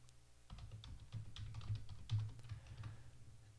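A password is typed on a computer keyboard: a close, quick, uneven run of keystrokes clatters for about three seconds after a brief quiet start.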